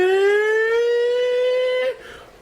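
A loud siren at a West Virginia football game, one long rising wail with rich harmonics holding steady, then cutting off sharply near the end into crowd noise.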